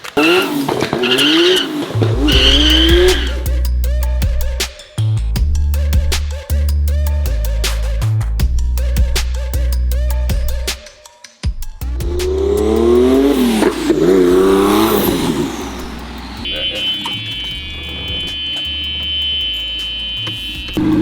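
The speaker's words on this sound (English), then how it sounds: "Nothing like burnout on Monday." A car doing a burnout at a private compound: the engine revs hard and repeatedly with tires squealing, loud and close, with brief drops in revs between pulls and a long, screeching tire whine toward the end.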